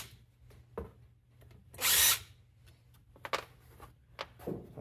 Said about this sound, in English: Take all these screws out.